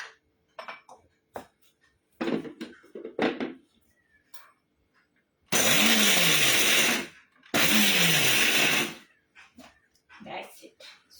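Countertop blender grinding a small batch of roasted pistachios, two loud bursts of whirring roughly two seconds each with a pause between, preceded and followed by kitchen clatter and someone talking.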